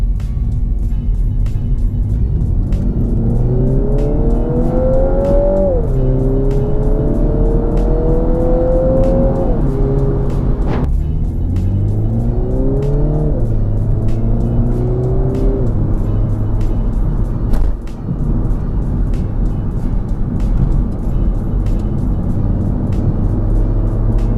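A Mini Cooper John Cooper Works engine pulls hard while the car is driven fast through corners, its tone rising and falling steadily with each gear and bend, loud and continuous with road noise throughout.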